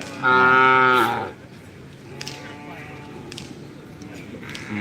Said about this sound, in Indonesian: sapi dari Bangkalan kayaknya